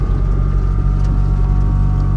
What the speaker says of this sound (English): Oh my god, this is a rally car.